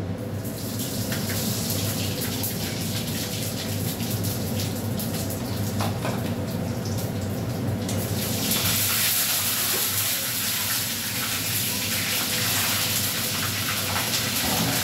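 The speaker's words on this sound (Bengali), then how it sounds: "ইলিশ মাছের তেলটা পুঁই শাকে দিয়ে দিচ্ছি।" Hilsa fish oil poured onto Malabar spinach in a pan, a steady hiss and sizzle throughout that brightens and intensifies partway through, with no talking.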